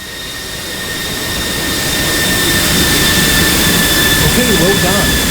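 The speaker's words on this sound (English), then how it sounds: "Continue to taxi down the runway and take the next taxiway to the left." An F-16C Viper jet taxis down a runway in the DCS World flight simulator, its engine giving a steady, loud roar with a high whine that swells slightly and holds, and a faint voice toward the end.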